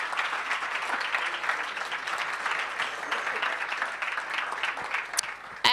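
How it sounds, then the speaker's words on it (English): Steady applause from a crowd at Startup Weekend Stuttgart 2017 final pitches fills the whole stretch, loud and continuous clapping with a sharp burst near the end. "give them a big round of applause again"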